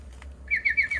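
Bird chirps from a children's learning app, a short series of bright, rising tweets in quick succession after a quiet start, heard over a low steady hum.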